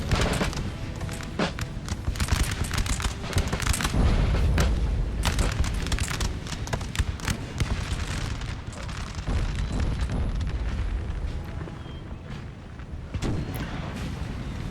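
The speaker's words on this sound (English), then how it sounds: "Missing a lot of bullets. but only a few finding their mark." Musket volleys crackle and boom across a Napoleon: Total War battlefield, with dense repeated gunfire bursts layered over a constant rumbling roar of artillery and battle noise throughout.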